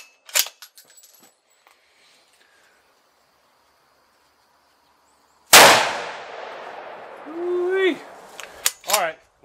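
A Remington 700 CP rifle fired at a steel target outdoors, one sharp loud crack followed by a ringing tail and later a faint voice and clatter; quieter clicks precede it.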